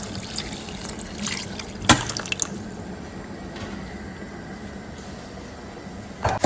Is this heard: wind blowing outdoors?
no